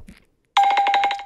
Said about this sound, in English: it's the greatest bell ever